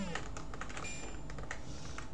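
Computer keyboard keys are pressed rapidly to play Slap Fight on an Amstrad CPC emulator. The clicks come as a steady, close clatter over a continuous low background hum.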